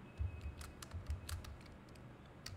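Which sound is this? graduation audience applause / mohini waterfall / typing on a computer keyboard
typing on a computer keyboard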